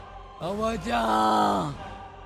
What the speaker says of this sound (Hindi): तभी किसी के चिल्लाने की आवाज आई,